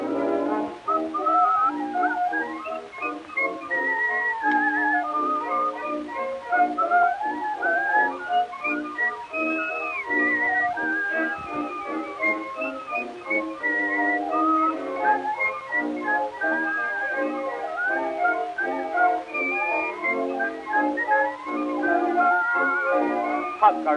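Melodic whistling carries the tune of an early recorded popular song, bright and continuous over the backing music throughout.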